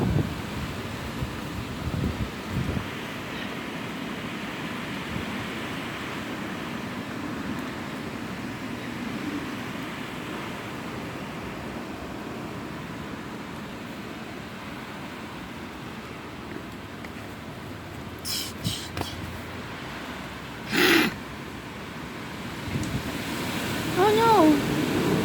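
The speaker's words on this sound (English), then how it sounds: "the wind is so strong" Hurricane Dorian's strong wind roars steadily in a broad, rushing blast against the microphone, with gusting swells, a few sharp knocks and faint voices in the last seconds.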